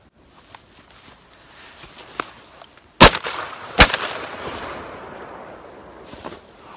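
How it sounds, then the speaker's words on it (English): Gunfire from dove hunters opening the season at Spenceville Wildlife Area, California: two sharp, fairly loud shots about a second apart, with faint scattered distant pops and outdoor ambience before and after. "a lot of people are, I don't know if you can hear this, but they're shooting already."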